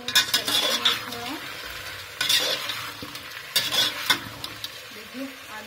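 Potatoes and onions frying with salt, stirred in a pan: repeated scraping strokes of a spoon over a continuous sizzle, close and clear, with bursts of clatter and no speech.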